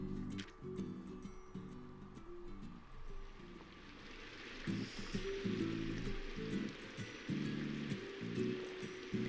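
Steady rain falling in the visual novel Kindred Spirits on the Roof, a soft continuous patter and hiss throughout, with a low melodic music bed underneath.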